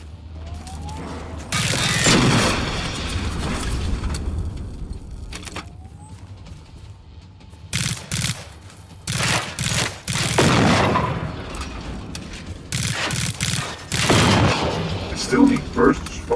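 Bursts of gunfire in the video game Generation Zero, loud broadband blasts in several clusters separated by short gaps, with a person talking over parts of the action.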